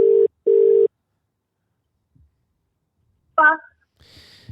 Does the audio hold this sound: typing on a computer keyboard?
no